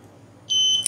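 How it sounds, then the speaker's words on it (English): A gas alarm buzzer set off by butane from a lighter in a science exhibition setup sounds a sudden, steady high-pitched electronic tone after a quiet moment, ending with a short sharper blip. "As you can see, the buzzer ringed, the fan turns on, and the vents are open."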